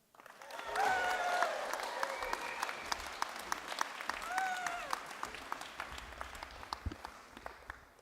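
An audience at a university graduation ceremony bursts into sustained applause and cheering, with dense clapping, a few whoops and whistles, and some voices mixed in as the ovation gradually thins out.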